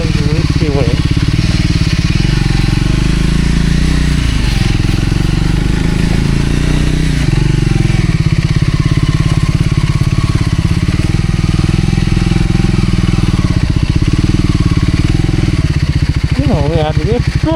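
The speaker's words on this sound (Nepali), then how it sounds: "चिप्लिरहेछ नि मेरो बाइकको टायर।" A motorcycle rides along a slippery, rain-soaked red-mud off-road track in the monsoon, its engine droning loud and close the whole time with small shifts in pitch and a rattling chassis underneath.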